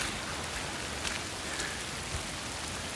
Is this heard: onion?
no